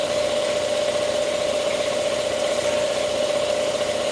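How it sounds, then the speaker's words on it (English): A constant mechanical drone with a steady tonal whine from an air compressor motor running nonstop, loud and close. "Sorry for the compression noise."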